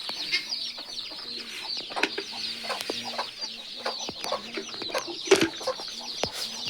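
Chickens cluck and chatter steadily with high chick peeps layered throughout, a dense close farmyard flock of hens and newly hatched twelve-day-old chicks, no voices.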